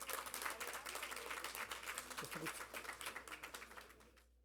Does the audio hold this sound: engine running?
no